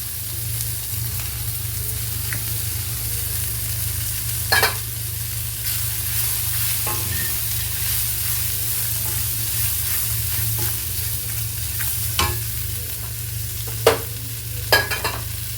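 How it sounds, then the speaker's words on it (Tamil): Gooseberries (amla) are sautéed in a pan, giving a steady, loud, close sizzle and frying hiss throughout, with occasional sharp spoon taps and scrapes as they are stirred, no voices. "நெல்லிக்காய் இருக்குல்ல, அதையும் நம்ம அதில் போட்டுடலாம்."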